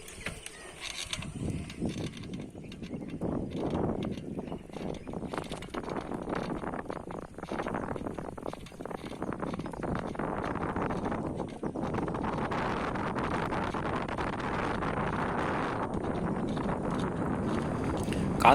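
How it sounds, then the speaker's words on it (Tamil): Strong wind roars across the microphone throughout on the Veeranam lake road in India, a broad hissing rush that swells and eases without a break. "காற்று ரொம்ப அடிக்குது."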